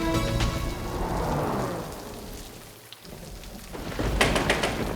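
Heavy rain pours steadily and loudly over a street, with thunder rumbling through it; the downpour dips briefly before surging back, with no voices.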